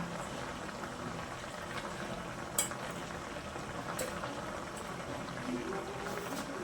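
A curry of Malabar spinach with fried fish heads bubbles and simmers in a pot, a steady soft boiling hiss with a couple of faint utensil clicks, quiet and close.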